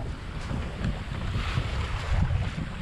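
Steady wind roars across the microphone aboard a sailboat on a beam reach in the Southern Grenadines, with waves and water rushing along the hull underneath, continuous and fairly loud.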